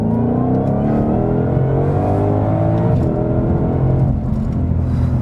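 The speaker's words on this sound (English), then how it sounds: "Let's put the exhaust in track, and it opens up." Ford Mustang Shelby GT500 engine revving hard with its exhaust opened in track mode, a loud, dense, continuous roar climbing through the revs, close and alone without talk.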